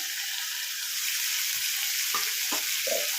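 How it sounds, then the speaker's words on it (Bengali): Potatoes fry in hot oil with a steady, close hiss and sizzle, joined near the end by a few soft stirring scrapes and taps against the pan. "আলুটাকে ভালো করে ভেজে নেবো"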